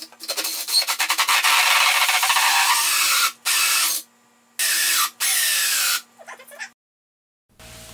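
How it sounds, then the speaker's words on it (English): A big 4-inch drill bores a port hole in a wooden DIY speaker cabinet, a loud continuous grinding rasp in several bursts separated by short pauses, close up with no talking. "Big 4-inch drill. I'm drilling the port here."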